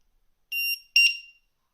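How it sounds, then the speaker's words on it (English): Two short, shrill electronic beeps in quick succession, high-pitched and piercing against silence, from a battery voltage alarm on a 1:18 scale Pinecone SG1802 4WD RC crawler with a 7.4V lithium-ion battery. "there is going to be a loud beep coming up when I connect this"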